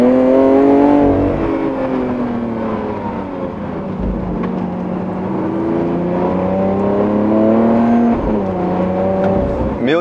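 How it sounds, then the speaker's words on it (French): Naturally aspirated V12 of a new Lamborghini Countach revving, a loud sustained engine note with harmonics rising and falling through the rev range, close and continuous for about ten seconds. "On va aller chercher l'émotion avec ce V12 Atmo qui hurle jusqu'à 8500 tours minute."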